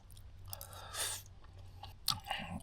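Convenience store food dipped in boiled egg being chewed close to the mic, a few moist crunchy bites in a short burst with quiet pauses between.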